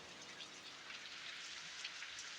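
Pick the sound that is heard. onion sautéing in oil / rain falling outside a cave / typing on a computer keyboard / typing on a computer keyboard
rain falling outside a cave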